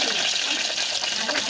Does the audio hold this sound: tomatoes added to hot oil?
yes